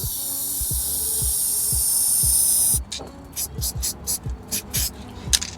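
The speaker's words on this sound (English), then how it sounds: "And that's one of the biggest benefits of spray paint, is that instant fade." Low pressure spray paint can spraying a fade, a steady loud hiss for nearly three seconds, then a string of short, rhythmic bursts with clicks and rattles between them.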